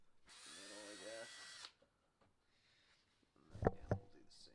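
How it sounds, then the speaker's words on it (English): A power drill whirs loudly for about a second and a half, rising in pitch as it bores a hole in a corner of a control box, followed by quiet and then brief clattering handling noises. "So drilling every corner is kind of a safe bet"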